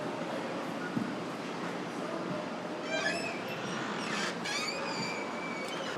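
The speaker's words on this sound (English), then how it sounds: "I'm going into the subway stop." Inside a subway station, a train rumbles steadily while high metallic wheel squeals and screeches rise midway, repeating over several seconds; faint voices murmur in the background.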